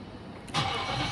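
A 2010–2016 Nissan Patrol Y62 with a starting fault cranks and catches, a short whirr followed by the engine firing into a rough rumble, heard close up.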